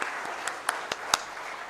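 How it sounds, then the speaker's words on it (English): Audience applause at a Tribal Pride Day event in Jharkhand State with the governor speaking, a steady hall-filling patter of clapping with a few sharper individual claps standing out. "can we have a huge round of applause, please?"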